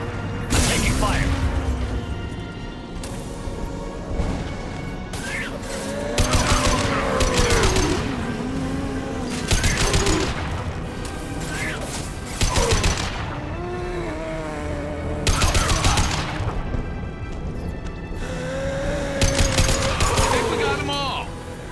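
Bursts of automatic gunfire in a Mass Effect 2 firefight, repeated loud volleys separated by short lulls, with game voices calling out between and over the shots.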